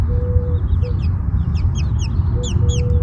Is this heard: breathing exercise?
no